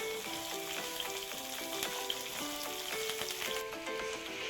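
Green chilies and finely chopped onion fry in hot oil with mustard seeds, giving a steady close sizzle with scattered crackles and pops throughout, and no voices.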